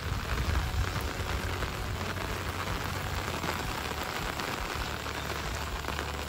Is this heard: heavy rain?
yes